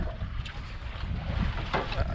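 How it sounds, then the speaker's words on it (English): Wind gusts over a sailboat out on the deep sea, a steady broad rushing with buffeting against the microphone, close and fairly loud throughout, with no talking. "A little bit of a wind coming up."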